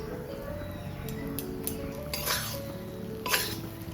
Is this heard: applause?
no